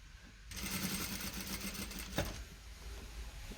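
Sewing machine topstitching banana-pants seam lines using a stitch presser foot, a steady close mechanical hum and rattle that starts abruptly and runs continuously.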